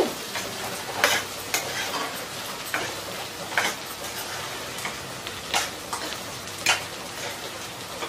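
Chicken curry stirred in a pan, with a spoon scraping and knocking the metal at an uneven rhythm, roughly every second, over a low simmering hiss; close and moderately loud, without talk.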